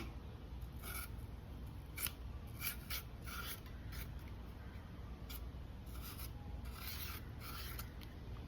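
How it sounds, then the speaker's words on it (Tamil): A knife shaving thin skin off a raw plantain, heard close and quiet as a series of short scraping and rasping strokes in an uneven rhythm over a low background hum. "பாருங்க, மெலிசா இந்த மாதிரி லைட்டாக சீவுனா போதும்."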